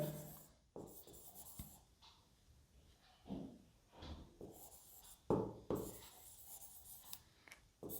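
Pen or marker writing out a multiplication step of an equation, scratching in short strokes with pauses between them, close and fairly quiet, with no talk.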